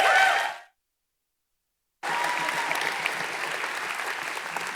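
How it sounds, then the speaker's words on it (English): A conference audience at ShipItCon 2025 bursts into loud, steady applause for the final speakers, following a brief cut-off snippet and a short silence, with no talk over it. "I want you to make as much noise as possible, please, for our last speakers for 2025 ShipItCon, Rob and Darryn."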